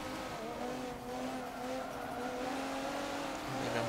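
A car drifting in Forza Motorsport 7, with a steady engine drone and sustained tire squeal running throughout, loud and continuous with no talking.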